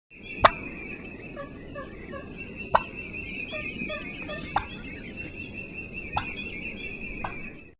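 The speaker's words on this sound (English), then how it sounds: "Cluck to locate each other." Sharp, sparse wild turkey clucks, a handful of crisp single notes spaced a second or two apart, over a steady high whine and faint background chatter.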